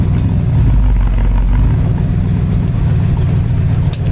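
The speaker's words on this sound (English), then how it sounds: "We're going to pull out of the driveway here." Truck with a three-on-the-tree column shifter pulling out of a driveway in first gear, its engine a steady low rumble that eases slightly partway through, close and loud with no talk.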